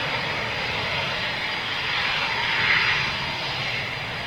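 A Eurofighter Typhoon jet engine running on the ground at RAF Coningsby, a loud, steady roar with a high whine that swells slightly midway.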